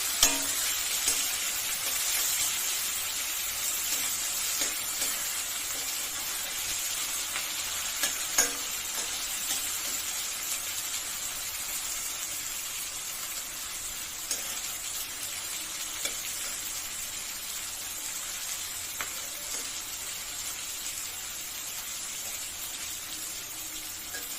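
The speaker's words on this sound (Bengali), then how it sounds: "পেঁয়াজটা লাল লাল করে ভাজা হয়ে যাবে।" Onions fry in a pan for a Bengali chital fish bone chorchori, a steady close sizzle running throughout with faint scattered clinks of stirring and no talking.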